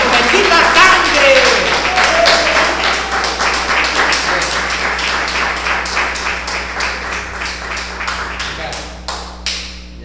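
Congregation clapping in a church service, a steady run of close sharp claps that slowly thin out and fade toward the end.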